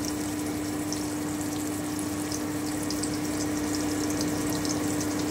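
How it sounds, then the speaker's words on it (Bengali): Brinjal slices with turmeric and salt fry in hot oil over lowered heat, giving a continuous, even sizzling hiss with no talking. "তেল কিন্তু গরম হয়ে গেছে, আঁচটা কমিয়ে দিলাম। এবারে আমি বেগুনটা দিয়ে দিচ্ছি।"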